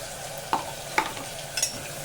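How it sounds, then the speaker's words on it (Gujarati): Asafoetida and pigeon peas fry in oil for a rustic Gujarati potato curry, a steady soft sizzle broken by three distinct clinks of a spoon stirring the pan, close and alone. "આપણે એમાં હિંગ પણ નાખી દીધી અને તુવેર પણ એમાં તેલમાં જ નાખી દઈશું"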